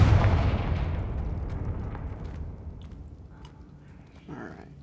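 A Confringo explosion spell in a video game goes off with a loud, deep boom at the start, then a long rumbling decay fading over several seconds, with faint small crackles near the end.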